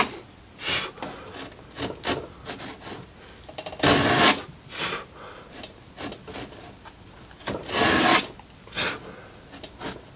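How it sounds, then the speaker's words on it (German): A hand saw pressed against a guide cuts a sliding dovetail groove in wood, producing a series of rasping back-and-forth strokes in an uneven rhythm, close and fairly loud, with a few stronger strokes standing out. "Schritt für Schritt, Sägezug für Sägezug, schön die Säge gegen die Sägehilfe drücken"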